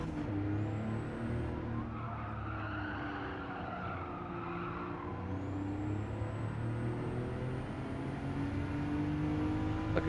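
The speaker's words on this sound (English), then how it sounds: "We can rev the nuts off it." A racing video game car engine revs hard and steady at the start line, loud and continuous for the full stretch, with rising whines over a dense rumbling drone and no talk.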